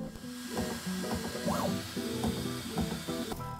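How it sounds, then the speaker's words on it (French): A Bambu Lab X1 Carbon 3D printer's print head travels to different edges of the bed during calibration, giving a continuous close mechanical whir with stepper-motor tones that rise and shift pitch in short bursts. "La tête d'impression de l'imprimante se déplace vers différentes extrémités du plateau pour les détecter."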